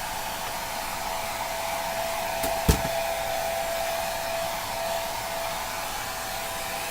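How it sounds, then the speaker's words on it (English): Hair dryer on low heat drying acrylic paint, a steady, even blowing whoosh that runs the whole time with a faint motor whine, broken only by a brief click partway through. "You can dry your acrylics with a blow dryer on low heat."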